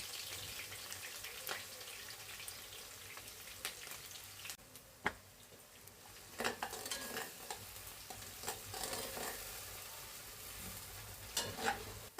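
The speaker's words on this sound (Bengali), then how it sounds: "এখন আমি পেঁয়াজটা দিয়ে দেব বিসমিল্লাহ কাঁচা কাঁচামরিচটাও দিয়ে দেবো" Sliced onion and green chilies fry in hot oil in a pan, a steady soft sizzle with occasional clinks and stirring scrapes, faint and close, with no talking.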